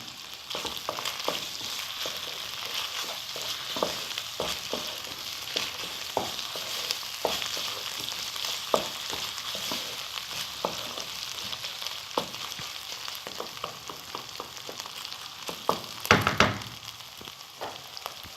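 Keema, minced meat cooked with whole spices, fries in a pan and is stirred throughout: a steady close sizzle with frequent spoon scrapes and knocks, one louder clatter near the end, no talking.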